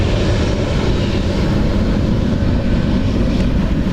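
Aircraft at Dublin Airport, a loud, continuous low engine roar with broad rushing noise, steady and close throughout.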